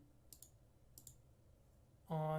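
A pair of sharp computer mouse clicks, then a second pair, each quick and light against quiet room tone, before a loud steady hum cuts in near the end.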